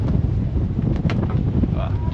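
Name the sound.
wind gust on a sailboat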